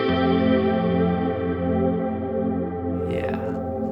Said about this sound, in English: now we change the whole sound into modulation